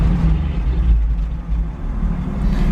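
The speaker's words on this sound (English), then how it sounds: "Goes up if we rev it a little bit." A classic car engine idling and lightly revved while parked, a steady close low rumble that swells a little under the throttle, with no voices.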